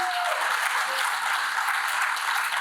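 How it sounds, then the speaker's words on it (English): Loud, dense applause from an audience at a sports presentation, honoring two breakdancers leaving the stage; continuous clapping at an even level throughout, with no talking. "if you can have one more very loud clap"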